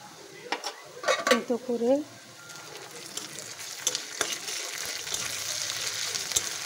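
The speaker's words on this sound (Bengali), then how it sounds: "পেঁয়াজটা লাল হয়ে গেছে, এবার দিয়ে দেব আদা রসুন" Onion, ginger and garlic fry in a pan with a soft steady sizzle and scattered stirring clinks of a spoon against the pan. Someone speaks briefly near the start.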